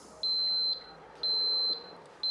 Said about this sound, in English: If your tag's not already connected, you'll hear it beeping and you'll see it flashing on the switch here.